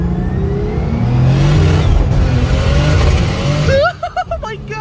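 A turbocharged BMW M50 engine revs hard in a car, a loud rising drone with climbing tones, then cuts off sharply. A voice speaks briefly afterward.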